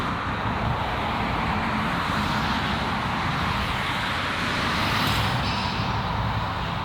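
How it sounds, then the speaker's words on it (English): Traffic roaring on a bridge over the Han River in Seoul, mixed with gusting wind buffeting the microphone, a loud, continuous wash of vehicle and wind noise with no talk. "sorry for the wind noise and traffic noise"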